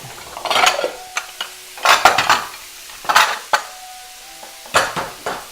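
Crumbled Hillshire Farm sausage, cut out of its casing, frying in a pan while a utensil stirs and scrapes it, making repeated clattering scrapes in bursts over a soft sizzle, close up with no talking.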